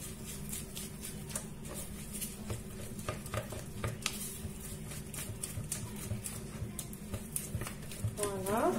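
A mixture is stirred in a bowl for an eggless quick brioche with pastry cream, giving repeated soft scrapes and light taps at an uneven rhythm, fairly faint under a nearby voice.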